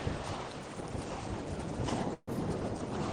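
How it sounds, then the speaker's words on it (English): Breezy wind on the south coast of England near Brighton beach, a dense, loud rush of wind buffeting the microphone almost continuously, broken by one brief dropout before roaring back. "It's very breezy today"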